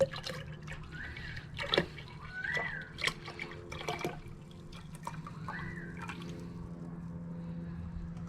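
Lemon juice and cooled sugar syrup are poured into a container for homemade lemonade, heard as quiet, intermittent drips and trickles against a low background.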